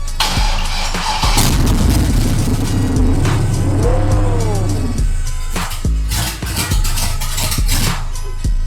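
An LS-swapped Monte Carlo SS engine cranking and catching, heard as a loud, close, continuous engine roar with revving and some clattering bangs, with no voices.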